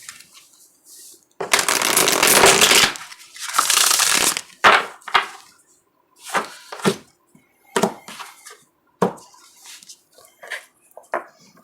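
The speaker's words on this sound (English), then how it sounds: "Shuffle one more time." Tarot cards shuffled by hand during a reading, with a long riffle-like burst, a second shorter burst, then a series of quick separate card snaps and taps spaced out, close and crisp in a quiet room.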